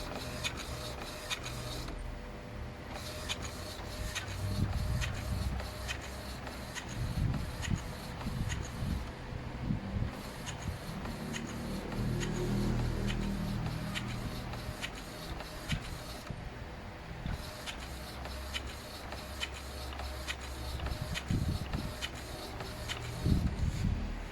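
An inkjet printer printing a photo, running continuously with rapid rhythmic clicking of the print head sweeping back and forth over a steady mechanical whir, close and alone.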